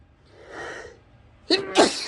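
A soft breathy intake is followed by a sharp, close hay fever sneeze, then a brief vocal sound right after.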